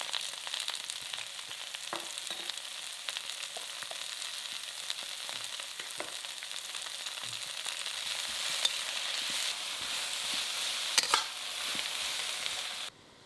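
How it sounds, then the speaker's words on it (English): Continuous hissing sizzle of sliced onion, peppers, garlic and ginger stir frying in a hot wok, with occasional scraping clicks of a utensil stirring, steady throughout. "add in sliced onion, peppers, garlic and ginger and stir fry for 2 minutes"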